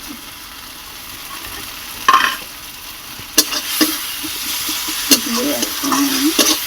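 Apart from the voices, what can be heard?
frying spices (turmeric, chili powder) for rohu fish curry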